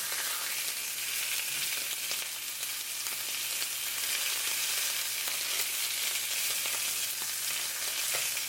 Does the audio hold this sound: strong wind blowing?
no